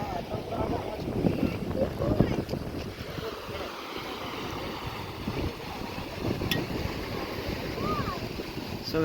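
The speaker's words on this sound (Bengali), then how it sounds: "একদম ধার দারুণ লাগছে এই সমুদ্রের ধার" Waves wash steadily onto the sand at Digha beach in the late afternoon, a continuous roar with wind buffeting the microphone, and people talking over it.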